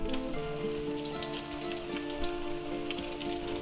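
Chicken fried steaks sizzle and fry steadily in a hot pan, a dense continuous crackle with no voices.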